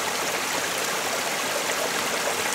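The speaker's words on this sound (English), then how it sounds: "Water passing into the debris field there." Stream water gurgles and rushes into a debris field below a small waterfall beside an abandoned farm road in Japan, a constant close splashing flow with no one talking.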